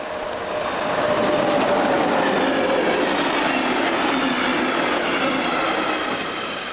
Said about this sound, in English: The train is coming now.